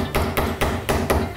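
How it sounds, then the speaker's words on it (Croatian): A hammer taps glued wooden pieces of a handmade natural wooden toy, pressing pegs into narrow holes. Five sharp, evenly spaced knocks ring out close and clear, with no talk. "sa čekićem to lupimo."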